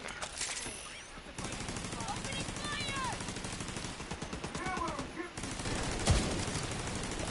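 Carbine rifle fire in a PS5 shooter game comes as rapid, continuous bursts of shots with brief gaps, while a player talks over it.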